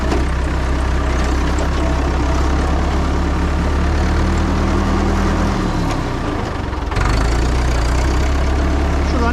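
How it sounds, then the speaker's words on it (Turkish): A Massey Ferguson 65X tractor engine idles steadily with a low, chugging rumble, briefly dipping before settling back to a constant drone. "Traktörün hem yolda gidişini, sesini de bu şekilde görmüş olursunuz."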